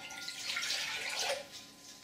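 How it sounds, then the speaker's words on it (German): Water is poured away from a container into a drain, a brief soft splashing trickle that swells and fades within a couple of seconds, quiet and close. "Ich werde das Wasser nochmal weggießen."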